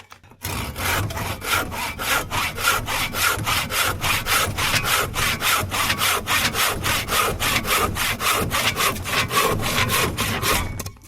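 A hand saw cuts through wood outdoors in extreme cold at about minus forty-three degrees, giving a brisk, steady rasp of some two dozen even back-and-forth strokes, close and alone.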